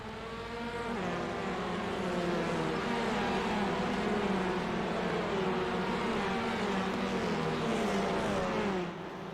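Race cars launch off the grid at Donington Park, a pack of engines revving hard and accelerating together in a sustained, layered roar with rising and falling pitch that swells and then cuts off near the end.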